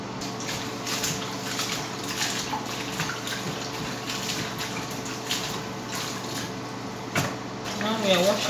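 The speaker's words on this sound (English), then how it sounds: "Now we are washing it for the last time. Make sure you wash it with very clean water." Water leaf greens are washed by hand in clean water. There is close splashing and sloshing with intermittent swishes and small knocks, and a louder stir of water near the end.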